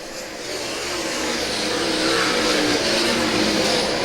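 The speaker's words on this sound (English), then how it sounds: "here comes Phillips down the back straightaway" Lucas Oil late model race cars roar around the dirt track at Lakeside, a loud, sustained engine drone that builds steadily as the cars pass.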